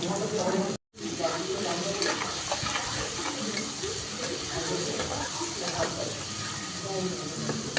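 Garlic sizzles and crackles in hot oil, a steady frying hiss with a brief cut near the start, while a voice talks over it.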